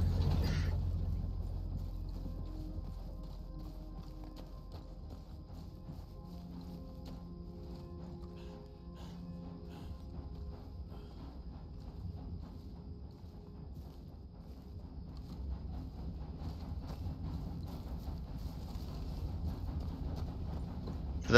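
Horse hooves clip-clopping in the video game Red Dead Redemption 2, a faint steady rhythm of hoofbeats under low ambient background for a long stretch.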